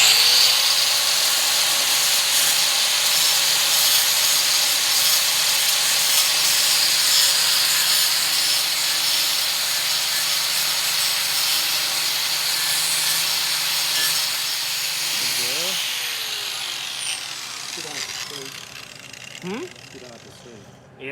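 A grinder with a soft pad works over the rusty body of a 1959 Ford Galaxie, a steady loud abrasive whine and scrape that holds for most of the stretch, then tapers off near the end with brief knocks.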